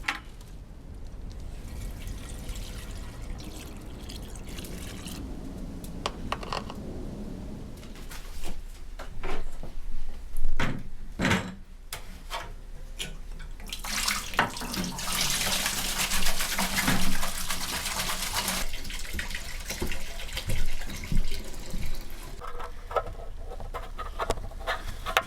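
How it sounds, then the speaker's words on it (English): Evapo-Rust poured back into a 1971 Honda CT90 motorcycle gas tank, a close splashing, gurgling liquid stream that starts and stops, surging louder in bursts with scattered drips and clunks. "so I'm just going to pour it back into the tank."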